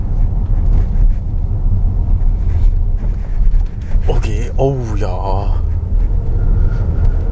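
A 2022 Audi Q7 45 TDI quattro Premium cruises on the road. A steady low cabin rumble and road noise run throughout, with someone briefly speaking over it partway through.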